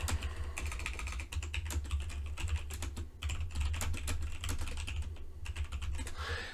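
Rapid typing on a computer keyboard, a steady stream of close, crisp key clicks with brief pauses, no voices.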